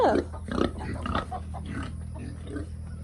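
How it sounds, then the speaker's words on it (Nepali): Several close pig grunts, low and rough, opening with a louder squealing grunt and continuing in irregular bursts over a steady low hum. "हेर्न सक्नुहुन्छ एनमको बाख्रा, एनमको सुँगुर"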